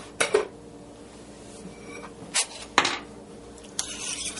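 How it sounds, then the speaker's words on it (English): Bourbon chicken meat being stirred in a pot on the stove: a few sharp metallic clinks and scrapes of a utensil against the pot, spaced irregularly over a faint kitchen background. "Stir it all together."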